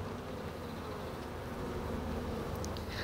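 Honeybees buzzing inside a hive, a dense continuous drone of many wings heard up close and steady throughout, with no voices.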